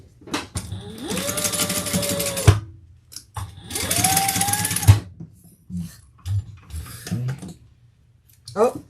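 Sewing machine stitching a fabric seam in two loud, close whirring runs of a couple of seconds each, followed by scattered clunks and clicks, with talk in between.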